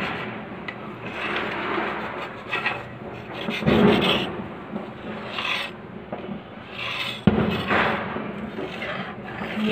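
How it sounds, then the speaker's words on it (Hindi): A spoon scraping crystallized sugar off the side of a hot pan of sugar syrup, repeated rasping strokes at close range in an irregular rhythm. "जब ये चाशनी हो तभी ये साइड का ये जमा हुआ चीनी निकाल सकते हैं"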